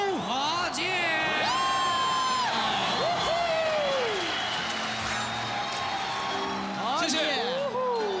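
Studio audience cheering and applauding to welcome Zhu Bajie, steady clapping and crowd noise under loud whooping and shouted voices that rise and fall across the clip.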